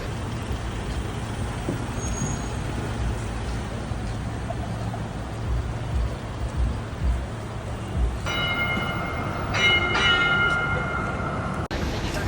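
A tram rumbles past close by over steady Melbourne street noise, with bell-like tones and a brief high squeal of brakes near the end.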